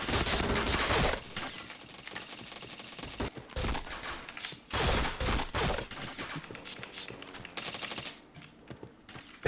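Gunfire in a first-person shooter game, with dense bursts of rapid automatic shots in loud clusters separated by short quieter gaps, close and harsh.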